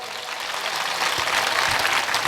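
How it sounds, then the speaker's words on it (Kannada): A crowd claps steadily at a village religious discourse gathering in Ipparagi, the dense applause holding at an even level throughout without any talk over it. "ಚಪ್ಪಾಳೆ ತಟ್ರಿ ಎಲ್ಲರಿಗೂ"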